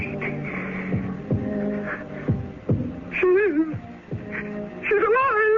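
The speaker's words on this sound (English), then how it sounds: "It's not her heart that's beating. It's mine." A slow, regular heartbeat throbs in low thuds, several evenly spaced beats, while a voice speaks over the latter part.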